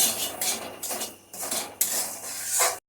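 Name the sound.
frying and stirring semolina with grated coconut in a pan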